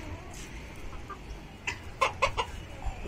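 Chickens on a farm give a few soft, scattered clucks, then a quick burst of louder clucking calls, over a faint background hum.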